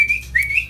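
A person whistles a short rising call to summon a young black-capped lory parrot, two bright whistled notes close and clear in a quiet setting.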